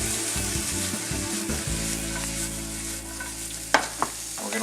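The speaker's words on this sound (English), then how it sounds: "porcini, chanterelle, and maitake mushrooms, and a little morel seasoning, because you can never have enough morel, right? I'm going to toss those a little bit." Porcini, chanterelle, maitake and morel mushrooms sizzle in a hot pan, a steady close frying hiss with scraping stir strokes and a couple of sharp clatters near the end.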